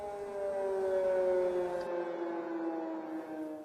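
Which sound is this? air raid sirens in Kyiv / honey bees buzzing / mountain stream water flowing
air raid sirens in Kyiv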